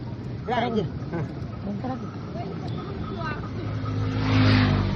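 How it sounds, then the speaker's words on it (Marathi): A motor vehicle engine runs and revs nearby, a steady rumble that rises and swells toward the end, with a voice briefly over it. "गाडी बघ बाय मोटर आणि मोटरसायकल बघा"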